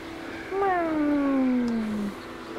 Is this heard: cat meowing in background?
yes